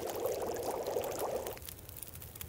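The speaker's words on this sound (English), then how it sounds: "Let's boil that water." Water set to boil over a fire in The Long Dark, a steady pouring, bubbling liquid wash that runs loud for about a second and a half, then drops to a faint, thin hiss with no voices.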